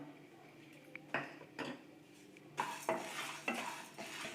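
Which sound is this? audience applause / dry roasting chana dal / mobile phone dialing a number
dry roasting chana dal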